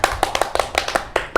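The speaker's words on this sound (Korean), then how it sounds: "박수 한번 칠까요?" An audience claps during a Korean talk show segment about living with a cheating husband, a short burst of about a dozen sharp, uneven claps close by.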